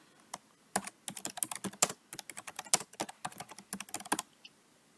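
Steady computer keyboard typing, a long run of close, crisp key clicks in fast irregular bursts with a few short pauses and no talking.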